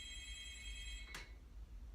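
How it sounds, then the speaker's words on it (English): A mobile phone ringtone plays quietly in a room with a steady electronic tone, then a brief sharp noise cuts in and the ringing stops. "my phone's ringing"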